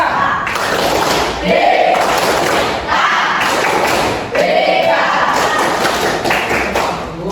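A classroom of students performs a rhythmic clapping chant, loud patterned bursts of claps and thumps in repeating phrases, with voices chanting along in unison.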